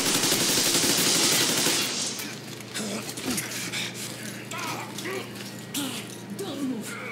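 Gunfire in the video game Metro Exodus: a loud burst of automatic shots up front, then scattered shots and in-game voices over a steady low hum.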